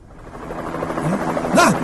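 A helicopter arrives in a comedy film scene, its rotor and engine drone rising steadily over the short moment, while voices are briefly heard over it.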